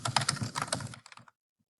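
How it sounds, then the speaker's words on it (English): Close computer keyboard typing, a quick burst of key clicks for about a second with a couple of trailing taps, then silence. "you're going to type Arena Update"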